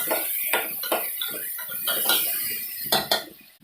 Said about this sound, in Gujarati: બધી જ વસ્તુને આપણે સારી રીતે મિક્સ કરી દઈએ